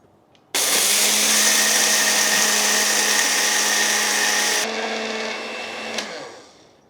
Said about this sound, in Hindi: इसे बिल्कुल अच्छी तरह से ग्राइंड करना है, फाइन पाउडर करना है इसका।